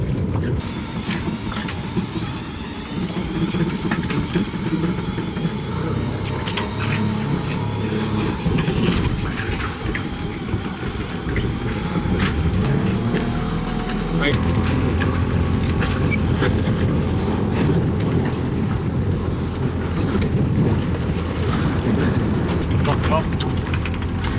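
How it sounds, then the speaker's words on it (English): A crew member cranks a sailboat winch with a winch handle to haul up the sail during the Round the Island Race, producing repeated mechanical clicking and ratcheting over creaks, wind and occasional voices. "I'm about to use the specialised winch handle to pull up the sail."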